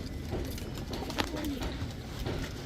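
Black Gorra pigeons coo softly at a pigeon sale, a low murmuring call repeating over a steady background hum with faint sounds of handling.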